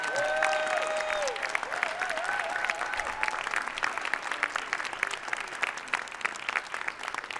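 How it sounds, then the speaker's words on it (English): Steady, dense applause from an audience at a Martin Luther King Jr. birthday celebration, filling the space evenly from start to finish, with faint whistles or cheers over the top early on. "please give my team a round of applause"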